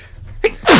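In the video game Sakura Fantasy, a character gives a single sharp sneeze: a short indrawn catch, then a loud burst of breath close to the listener.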